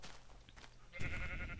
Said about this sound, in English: The new sheep. Eating stuff.